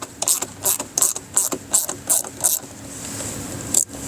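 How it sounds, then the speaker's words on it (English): Ratchet with a 5/16 socket backing out a fender liner screw on a 2017 or later Mazda CX-5, a close run of evenly spaced clicking strokes, then a pause and one final click. "You can use a Phillips head screwdriver or a 5/16 socket to remove it."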